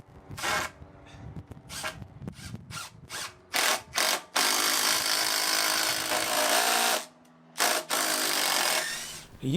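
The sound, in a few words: drilling pilot hole into hardwood post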